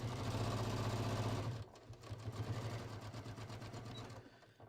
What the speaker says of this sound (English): now we're going to stitch this. And again, this one is like a 1/4 inch.